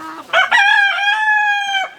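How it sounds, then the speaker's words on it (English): A single rooster crow rings out close and loud beside an open greenhouse, a drawn-out harmonic call lasting nearly two seconds, with a short cluck just before it. "Got very talkative roosters right now."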